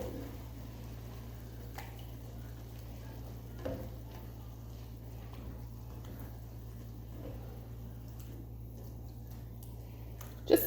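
A spoon stirs a seasoned garlic-and-herb sauce in a pot for baked ziti, giving soft, steady scraping with a few faint clicks over a constant low hum. Nobody speaks.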